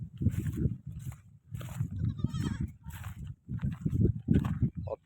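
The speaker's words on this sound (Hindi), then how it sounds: "ये चल रही हैं बकरियाँ" Goats bleat repeatedly in a field or jungle clearing, loud and close, several overlapping calls with short pauses between them.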